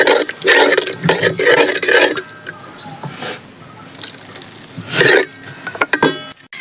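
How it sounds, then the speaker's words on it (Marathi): Tamarind-jaggery water is poured into gravy in a village-style cabbage manchurian cooked on a wood-fired stove, making splashing and trickling bursts that come and go with brief pauses. "आता यामध्ये चिंच गुळाचं पाणी टाकून घेऊ"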